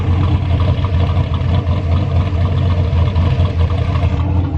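A turbocharged LS V8 engine in a GMC Envoy idles steadily with a deep, even rumble, close by and continuous throughout with no pauses.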